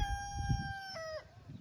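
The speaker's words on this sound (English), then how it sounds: "Don't mind the rooster." A rooster crows at night in a garden, a single drawn-out cock-a-doodle-doo that falls off at the end, heard fairly clearly over a low background rumble.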